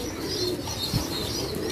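Pigeons cooing softly while drinking water, a low steady coo with a few faint chirps and a brief wing flutter, close by with no talk.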